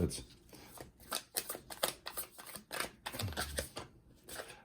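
Tarot cards are drawn and shuffled from a deck during a love reading, giving a quick run of crisp flicks and slaps close by, under a quiet voice speaking.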